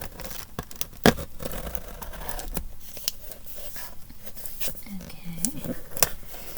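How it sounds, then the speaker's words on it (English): A small facial razor trims something in place of scissors, giving a series of brief close snips and scrapes at uneven intervals while a person talks throughout. "I'm gonna try this method of using this little like facial razor thing instead of scissors"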